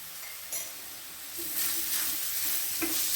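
Spices — red chili powder, cumin and black pepper — stirred in a hot pan for bean tacos, soft scraping strokes over a gentle sizzle that grows fuller after the first second, with a few light clinks of the utensil.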